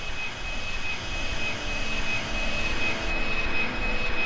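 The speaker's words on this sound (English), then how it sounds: "And look at that! A jet fighter." A jet fighter in an anime roars past as a steady, loud, wide rushing engine drone that holds for several seconds with no break.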